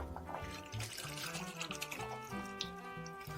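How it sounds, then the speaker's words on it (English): Chickpea cooking water, already slightly gelatinous, is poured back into a dish along with the chickpeas, giving a soft, close liquid splashing and trickling with small bubbly gurgles over a few seconds. "What we are going to do now is transfer back to the dish the water and the chickpeas."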